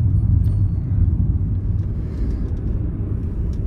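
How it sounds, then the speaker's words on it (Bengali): A car driving on a Himalayan mountain road between Shimla and Kalpa in Himachal, heard from inside as a steady, loud low rumble of engine and road noise without talk. "পাহাড়ে ড্রাইভ, ফার্স্ট টাইম এইরকম পাহাড়ে ড্রাইভ।"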